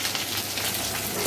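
Chopped onion hits hot oil for chowmein, giving off a dense, steady crackling sizzle like rain, close and loud throughout.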